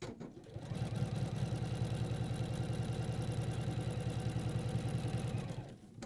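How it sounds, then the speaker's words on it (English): A domestic sewing machine stitches steadily over an existing line of stitching while sewing a dress, a fast even motor whirr with rapid needle pulses that runs for several seconds, then stops. "And sew over the same line of stitching."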